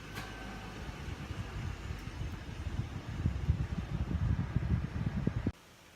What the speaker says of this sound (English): start up the engine and keep an eye on the oil pressure light